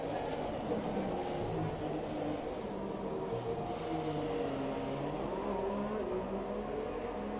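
Race car in a sim racing game powering through Eau Rouge, a continuous, fairly faint engine drone with slowly shifting pitch as it climbs through the corner.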